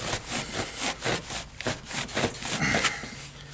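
Electric knife cutting through a turkey, producing a close, rough rasping of repeated sawing strokes in a quick, uneven rhythm, with no voices.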